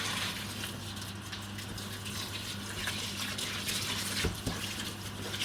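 Water running and gushing steadily as raw wool fleece is rinsed in the washing machinery of a fibre mill, a constant splashing rush over a low mechanical hum.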